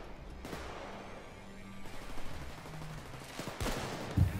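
Saiga 12 shotgun fire in Payday 2, a few hard blasts and bursts of gunfire over a busy game background, with a louder cluster near the end.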